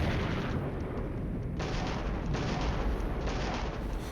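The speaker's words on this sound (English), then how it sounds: "some good artillery" Artillery fire in a tank war game booms in a rapid, continuous barrage of overlapping blasts that never lets up, loud and unbroken with no talk over it.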